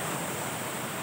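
A waterfall behind a roadside spot on a Nepali highway gives a steady, broadband rush of falling water, continuous and even throughout with no voices.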